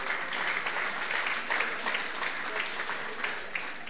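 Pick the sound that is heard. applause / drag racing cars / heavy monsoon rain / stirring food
applause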